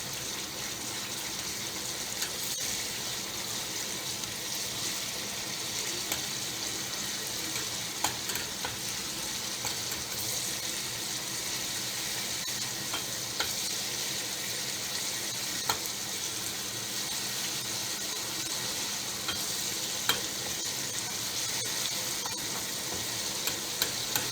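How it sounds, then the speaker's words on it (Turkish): Tomato paste fries and is stirred in a pan while preparing Gaziantep-style sour meatball and chickpea stew, giving a steady close sizzle with occasional scraping clicks throughout, no talking. "Salçamızın biraz daha kavurmamız lazım."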